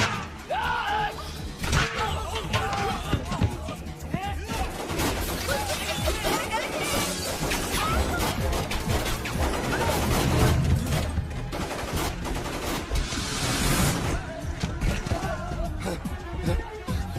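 Rapid bursts of gunfire crack and rattle through a Hindi film shootout, with thuds and crashes mixed in, loud and continuous under shouting voices.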